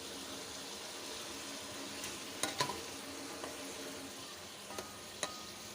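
Tomatoes drop into a pan of frying mutton karahi, giving a soft, steady sizzle with a few sharp clinks and stirring knocks scattered through it, fairly quiet and with no talk.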